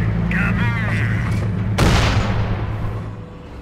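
Artillery barrage in the World War II strategy game Company of Heroes, modded for the Imperial Japanese Army in China: a sharp, loud boom with a rumbling tail that fades out slowly, following a short burst of radio-style chatter.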